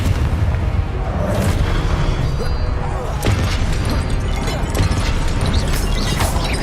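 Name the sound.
Confringo blasting spell explosion in Harry Potter video game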